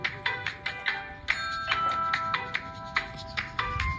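A mobile phone ringtone plays a bright, repeating melodic pattern of electronic tones, loud and steady, over low rumbling background noise, with no talk.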